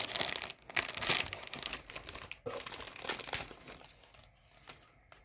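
Wrapper of a Keroro mini peanut sandwich snack being torn open, crinkly plastic rustling and crackling in close bursts that thin out toward the end.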